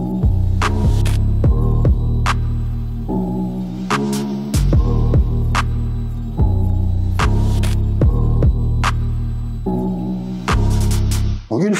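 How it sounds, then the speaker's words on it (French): An injector-extractor vacuum runs suction over car floor mats, giving a loud, steady motor hum with a throbbing drone that shifts in repeated pulses as the nozzle is passed back and forth, broken by brief clicks. "on n'a plus qu'à mettre en route l'aspiration et retirer les résidus de produit, la flotte et d'éventuelles petites poussières"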